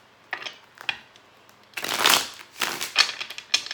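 A tarot card deck is shuffled close up, with a few light riffles at first and then longer, louder bursts of flapping, rustling cards.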